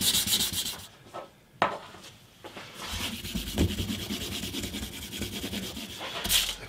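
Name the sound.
rubbing glue off a guitar build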